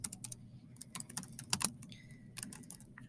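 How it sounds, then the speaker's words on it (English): Typing on a computer keyboard while building a slide: irregular, crisp, close key clicks in small clusters with short pauses between them, alone in a quiet room. "I'm going to type that in right there."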